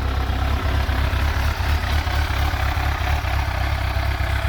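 A 1998 Yamaha YZF 1000 Thunderace with only 15,000 km idles steadily up close, its low engine throb even and continuous with no talk over it.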